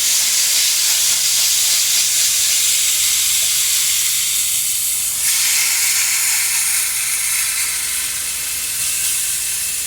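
Lamb sizzles in a hot pan as a loud, steady hiss of frying and steam, swelling briefly midway and holding on, with no talking over it.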